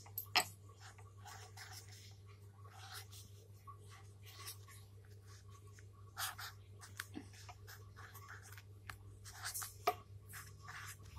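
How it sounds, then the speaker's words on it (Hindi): Alphabet letters being written by hand with a pen or pencil on paper, giving soft, irregular scratching strokes at close range over a low steady hum, with a few sharper taps scattered throughout. "जैसे आपने यहाँ पे अल्फाबेट लिख दिया"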